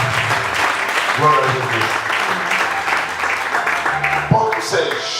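A church congregation applauds steadily throughout, with people speaking in French and Portuguese over the clapping.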